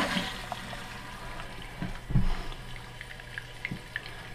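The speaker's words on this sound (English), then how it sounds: "So that's a lot of water flowing in there." Water rushes steadily into a toilet tank through a newly replaced fill valve, a close, continuous hiss and gurgle with a few knocks and splashes along the way.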